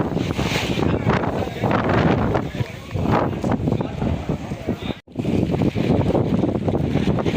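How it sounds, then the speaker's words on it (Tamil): Strong wind buffets the microphone in loud, gusty bursts with a brief drop near the end; a voice speaks intermittently underneath. "அப்படி ஒரு காற்று அடிக்குது பாருங்க"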